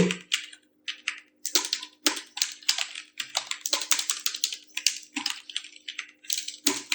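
Rapid clicking of computer keyboard keys while HTML code is typed, light irregular bursts of taps close up with short pauses between runs.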